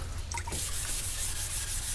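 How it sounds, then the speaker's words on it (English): Close, steady rubbing of wet sandpaper by hand on car primer, a soft scratchy hiss with a few faint drips. "I'm about done with the sanding."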